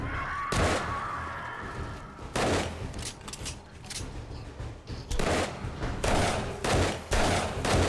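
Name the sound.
accurate rifle gunshots in 7 Days to Die video game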